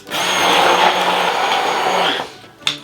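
An electric mixing machine whirs loudly and steadily for about two seconds, blending eggs with Cajun spice and a little salt, then winds down and stops, followed by a brief clunk.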